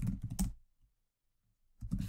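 Quick bursts of typing on a computer keyboard, close and clear, with a pause of near silence between two flurries of key clicks.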